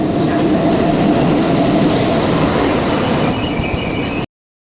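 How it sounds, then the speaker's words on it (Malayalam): A train pulling away from a station gives a steady, loud rumbling roar with rolling wheel noise that holds evenly for about four seconds before cutting off abruptly. "ട്രെയിൻ വിട്ട്"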